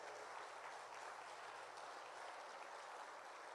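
A church congregation applauding, a steady dense wash of clapping from many hands that holds at an even level throughout, with no talking heard.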